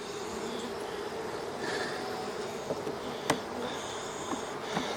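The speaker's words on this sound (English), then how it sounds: "A lot of bees in here." Many agitated honeybees swarm around an open hive box that has not been smoked, making a steady, close buzzing drone with a few brief louder passes.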